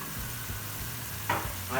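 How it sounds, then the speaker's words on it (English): Chicken fries over high heat in a wok with a soft, continuous sizzle, punctuated by brief stirring scrapes near the end. No one speaks. "You cook it in high in a wok"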